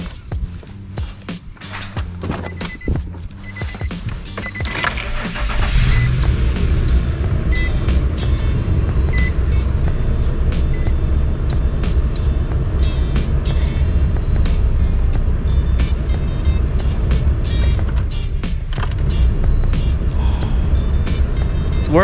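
A Nissan car's engine idles steadily after start-up following a burst coolant hose repair, a loud continuous rumble heard close up after some clicks and handling noises in the first seconds.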